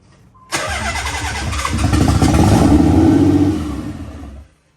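A Nissan 300ZX Z32 car engine, converted from naturally aspirated to twin turbo, cranks and catches on its first start, then runs with a steady rumble that builds slightly before cutting off abruptly.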